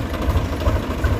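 A farm tractor's engine idles steadily in a village setting, a close, low, throbbing rumble with a regular knocking pulse and no talking.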